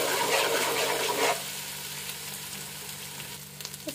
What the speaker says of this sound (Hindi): इस तरीके से हम इसको फ्राई कर लेंगे।